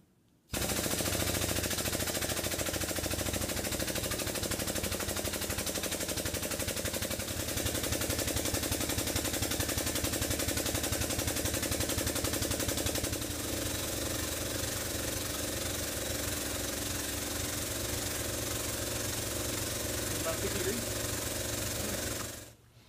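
An air/hydraulic powered tubing bender on a stand bending tube, giving a steady loud pneumatic hiss and mechanical rattle that runs continuously for over twenty seconds before stopping.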